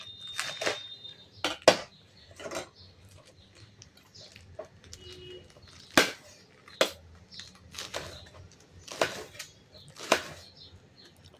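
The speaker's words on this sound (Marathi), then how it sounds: "आता आपण पालक धुवून स्वच्छ घेतलेला आहे आणि तो छान बारीक चिरून घेणार आहोत." Washed spinach being finely chopped with a knife on a board, a series of sharp separate cutting thuds in an uneven rhythm, close and fairly quiet.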